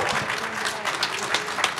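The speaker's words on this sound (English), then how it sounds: "So one more round of applause for these two amazing legends." Applause from the crowd at a New Jersey horror convention panel reuniting Night of the Demons stars Linnea Quigley and Amelia Kinkade, a short, dense roar of clapping throughout.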